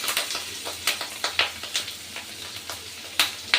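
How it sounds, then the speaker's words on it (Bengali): Fish roe and bitter gourd sizzle steadily in hot oil in a home kitchen pan, with sharp, irregular crackles and spits bursting up every fraction of a second, up close and without voices. "মাছের ডিম উচ্ছের সাথে খুব সুন্দরভাবে ভাজা হচ্ছে"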